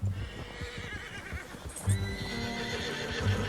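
Horses whinny and neigh in Red Dead Redemption 2, several calls over steady clip-clop hoofbeats and ambient game sound, close and clear.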